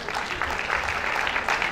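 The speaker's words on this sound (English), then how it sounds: "Please, that deserves some applause." Audience applause fills a summit hall, a steady wash of many hands clapping at moderate volume with no clear pauses, brief and continuous throughout.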